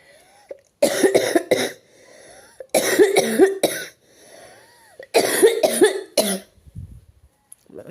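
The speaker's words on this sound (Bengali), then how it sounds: "সবসময় এরকম কাশতে থাকে, শরীরটাও ভালো লাগে তাহলে?" A person with a bad cold coughs in three close, loud fits of several harsh coughs each, separated by short pauses with faint breathing, and no talk over them.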